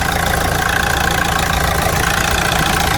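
A Vauxhall Astra 1.7 TDCi diesel engine idles loudly and close, with a dense, continuous clatter and a slightly uneven, wavering tone as the idle surges.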